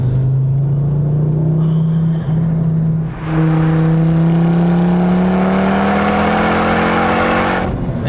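A Mk2 Ford Focus ST accelerates hard with its tyres struggling for grip, the loud, close engine note climbing steadily in pitch over several seconds with a brief dip midway and no voices.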